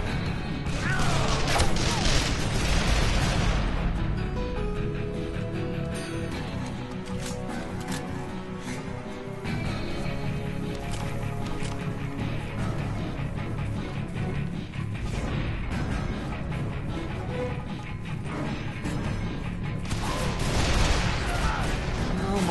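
Call of Juarez: The Cartel gameplay with loud, dense bursts of gunfire and crashing grenade blasts, sustained and heavy throughout, with heavier booms near the start and end and voices speaking over the combat.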